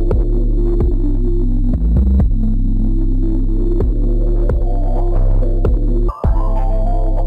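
A synth, its low-pass filter swept by a triangle-shaped automation in an organ beat, throbs loudly and steadily over repeating sharp hits. The sound drops out briefly near the end.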